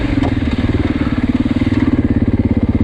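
Beta 390 RR dirt bike engine running on open trails, a steady pulsing throb at moderate revs that stays loud and close throughout the short stretch.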